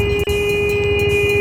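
A vehicle horn sounds loud and steady on an Indian road, one sustained honk of about a second and a half with a brief dip near the start, over low engine rumble from a motorcycle ride.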